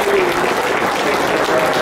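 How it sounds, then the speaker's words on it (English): Convention crowd applauding players, a thick, continuous wash of clapping at close range throughout, with a voice mixed in underneath. "a big round of applause for our players here, people"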